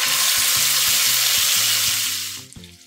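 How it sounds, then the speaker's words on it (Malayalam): Chicken pieces fry in sunflower oil in a pan over medium flame, a loud dense sizzle holding steady before tapering off near the end with a few faint knocks. "ഇനി ഇതിലേക്ക് ചിക്കൻ ഇട്ട് ഫ്രൈ ചെയ്തെടുക്കാൻ"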